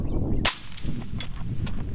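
A single sharp report from a suppressed .224 Valkyrie rifle fired outdoors, one crisp crack near the half-second mark followed by fainter echoes and a steady background rumble.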